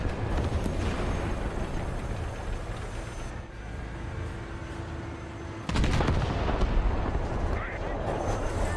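Gunfire and cannon blasts in the War Thunder tank battle game, a dense, loud rumble of shots and explosions that keeps going, with one sudden heavier blast partway through, and a voice talking over it.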